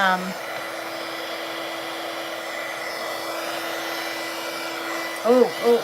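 An embossing heat tool blows hot air in a continuous, even whir that holds close and steady throughout, with a brief wavering change near the end.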